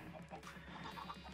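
Clucking of a chicken in the video game Minecraft, a soft run of short repeated clucks sitting low and faint beneath a steady background.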